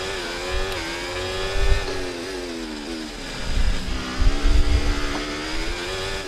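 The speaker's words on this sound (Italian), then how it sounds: "Oh, facciamo parlare i motori" Formula 1 race car engines in the F1 24 video game at the Miami Grand Prix, a continuous high-pitched engine whine with rising and falling revs and several louder surges as the cars accelerate, with no talk over it.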